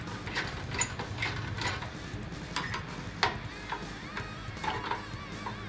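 Screws being loosened from an old HP desktop PC with a socket 775 CPU, giving faint, close ratcheting clicks and small metallic ticks in an irregular rhythm, with no talking.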